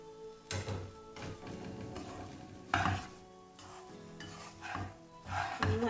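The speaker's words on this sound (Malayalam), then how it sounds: "നന്നായിട്ടൊന്ന് മിക്സ് ചെയ്യാം." Buhari rice is stirred with fried carrots and black raisins in a pan, making soft scraping and rustling strokes in uneven bursts, close and fairly quiet, with no talking.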